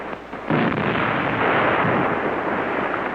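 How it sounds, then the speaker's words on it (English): World War II German artillery firing on attacking English tanks near Agaila in the North African desert: a loud blast erupts after a brief quieter moment and rolls on as a heavy, sustained rumble, with no voices. "Feuer auf angreifende englische Panzer vor Agaila."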